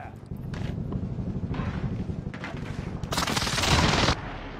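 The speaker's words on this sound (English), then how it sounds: "Allied precision airstrike incoming." Call of Duty: Warzone battle with dense gunfire and booming precision airstrike explosions, a rolling cluster of blasts swelling to a loud burst near the end, with a voice briefly heard amid the noise.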